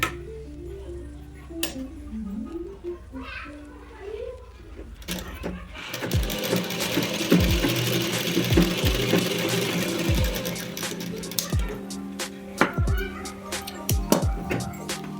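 Sewing machine stitching blouse fabric, with a soft whirring start before a loud, steady running stitch sets in at about six seconds and continues with rhythmic mechanical ticks, close up.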